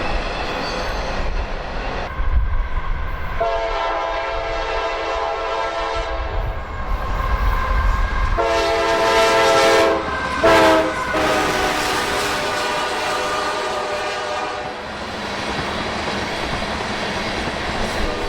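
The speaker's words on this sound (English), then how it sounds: "we were treated to a southbound loaded ethanol train with a YN2 liter and a thoroughbred Tier 4 visitor trailing" A southbound loaded ethanol freight train of shiny black tank cars rumbles past near Folkston, its multi-tone horn sounding in two loud long blasts over the steady roar of the locomotives and rolling cars.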